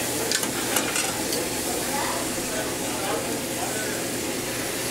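Pork fat trimmed from a smoked pork chop crackles in a skillet with a loud, dense, continuous sizzle and hiss, a voice speaking over it.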